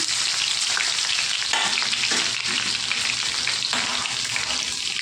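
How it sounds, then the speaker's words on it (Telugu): Crushed garlic fries in a pan with red chillies, with a loud, steady, close sizzle and occasional stirring scrapes throughout. "కొద్దిగా వేగాలండి వెల్లుల్లిపాయలు, కొద్దిగా వేగితే సరిపోతాయండి"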